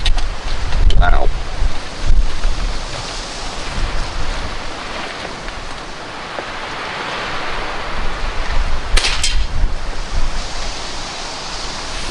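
Gusting wind buffets the microphone at an outdoor airgun range, a continuous broadband roar that swells and eases, with sharp bursts near the start and again around nine seconds.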